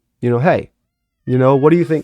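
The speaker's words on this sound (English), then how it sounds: "That's my cat. Don't mind him." A pet cat meows in two drawn-out, wavering cries, close and fairly loud, separated by a second of silence, with a voice briefly talking alongside.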